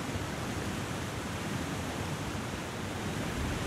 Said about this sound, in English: A waterfall there.